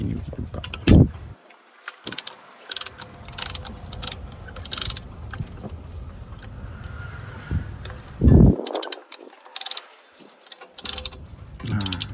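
Ratchet tightening a bolt during a brake pad change on a Perodua Myvi, sharp clicking bursts with mechanical rattles near the start and again past the middle, with quieter workshop handling between.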